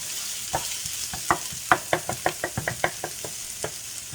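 An ingredient sautés in cooking oil for a lobster dish with hoisin sauce, with a light sizzle running underneath. A utensil strikes the pan in a quick run of about a dozen close, crisp taps, with no speech.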